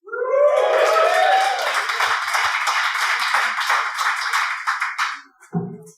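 A live podcast audience at an Automation Fair happy hour claps and cheers, a dense burst of applause with whoops that fades out over several seconds, then a voice begins.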